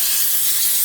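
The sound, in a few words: olive oil and Pam cooking spray being sprayed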